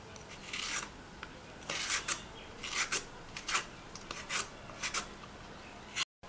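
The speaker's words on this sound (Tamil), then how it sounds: "கத்தி அல்லது இந்த மாதிரி தோல் சீவுறதை வச்சுட்டு இப்படி தோலை சீவி எடுத்துடலாம்." A peeler shaves the skin off a raw plantain in short rasping scrapes, a quick irregular run of close, crisp strokes with small pauses between them.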